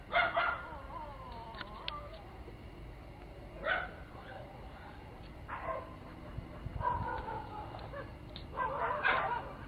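Dogs barking, yipping and whimpering at night, faint intermittent outbursts at a moderate distance separated by quiet stretches.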